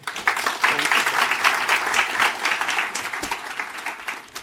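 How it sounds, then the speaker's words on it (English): Audience applause rises at a summit keynote as the FTSE Russell CEO is welcomed on stage, a dense, steady wash of many hands clapping close and loud for several seconds. "Give her a warm hand of applause."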